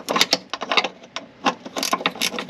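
Ratchet wrench loosening a 14 mm upper control arm bolt on a 2007 Honda Accord, giving quick bursts of close, sharp clicking in uneven runs with short pauses between.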